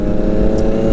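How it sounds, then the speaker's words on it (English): Loud motorcycles riding together in a group, a dense, steady engine drone heard up close in a brief burst, with no speech. "these bikes are loud, especially the dude 2 bikes ahead"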